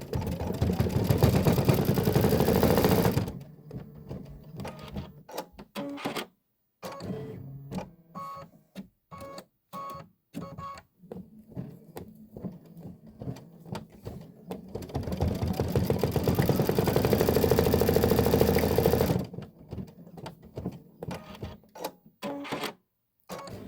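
An embroidery machine stitches detail on a Kimberbell quilt tile, with long bursts of loud, fast mechanical chatter separated by stretches of intermittent clicks and pauses.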